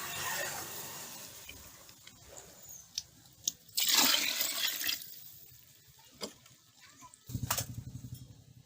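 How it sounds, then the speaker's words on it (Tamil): Water poured from a cup into a cooking pot of salted vegetable biryani base, four cups in all, comes as short splashing gushes with a louder pour near the middle and another at the end, amid quiet kitchen clatter. "அதனால 4 கிண்ணம் தண்ணி ஊற்ற போகிறேன்."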